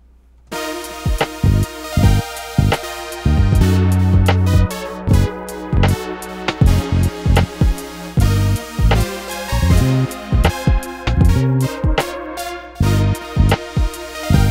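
A programmed drum machine beat using MIDI and audio samples, punchy kicks and snares over deep bass notes, steady and loud throughout with no voices.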